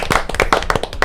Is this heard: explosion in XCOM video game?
no